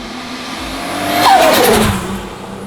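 A turbocharged Datsun 240Z with a GT2871R turbo revs up loud and close, the engine note swelling to a peak and then easing off over a couple of seconds.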